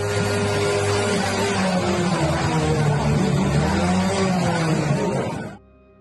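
A motorbike engine revs hard and close for about five seconds, a sustained loud roar with rising and falling pitch, then cuts off abruptly.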